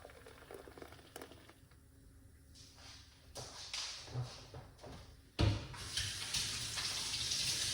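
Freshly blended pomegranate seed juice poured out of a blender jar, a soft liquid rush rising after a quiet start, with a sharp knock midway and a steady close pouring stream to the end.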